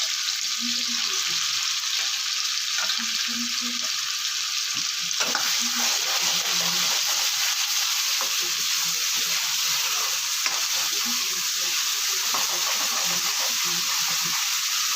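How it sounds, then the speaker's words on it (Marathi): Ground Kolhapuri masala paste fries in oil in a pan with goat intestine, a continuous close sizzle and hiss with intermittent spatula scrapes and soft knocks, no talking. "मसाला पण तेलामध्ये चांगला भाजून घ्यायचा आहे"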